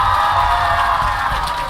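Loud, steady crowd cheering and whooping for a voice actor panel at a pony fan convention, a dense wash of voices and applause sustained without break.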